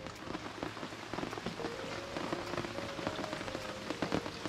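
Heavy rain pours down steadily on a camp in the Kimberley, a dense, continuous patter of drops close by with a low constant hum underneath and no talking.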